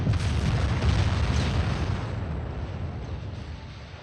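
Heavy naval guns fire in the warship strategy game Ultimate Admiral Dreadnoughts, a loud broadband boom that rolls on and slowly decays over several seconds, with no speech.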